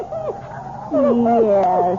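A dog named Attila whimpers and yips in a vintage radio drama, giving a series of high, bending whines close to the microphone, continuing over a steady low background hum.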